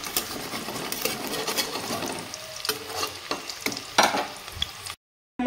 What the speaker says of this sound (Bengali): এইভাবে আমি সবগুলো পকোড়া ভেজে নেব